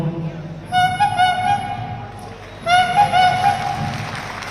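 A mimicry contestant at a state school arts festival mimics a fish vendor's honking horn with two long, steady nasal toots, separated by a short pause.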